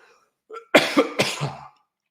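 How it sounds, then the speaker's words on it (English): A man coughs during a sports postgame broadcast, a short throat-clearing sound followed by two hard, close coughs, loud and dry against otherwise silent air. "I need to cough."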